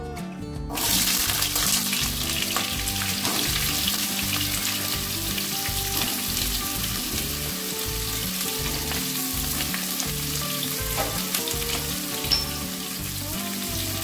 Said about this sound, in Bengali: তেল গরম হলে এবার দিয়ে দেব ডাঁটা।